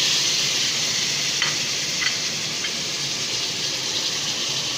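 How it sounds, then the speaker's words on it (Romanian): Tomatoes drop into a stew frying in a pan, giving a steady hiss of sizzling with a few soft splats and stirring noises, close and moderately loud, no voices. "Și acum liniștit putem să adăugăm roșiile."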